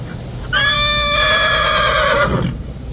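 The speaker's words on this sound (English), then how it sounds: "It's very rare actually that any of the horses here make that much noise." A loud, high horse whinny rings out for about two seconds, steady then trailing off, over a low rumbling background.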